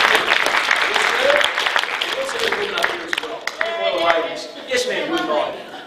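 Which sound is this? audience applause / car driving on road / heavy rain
audience applause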